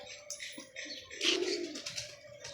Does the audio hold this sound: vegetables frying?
no